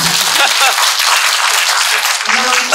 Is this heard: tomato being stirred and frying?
no